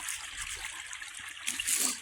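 Stream water trickling and splashing steadily at close range, a continuous bright burble with small splashes and no talking.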